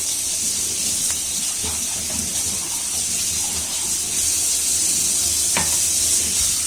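Carrot pieces frying in a pan for bread toast, giving a steady soft sizzle and hiss with occasional stirring scrapes, fairly close and continuous without talk.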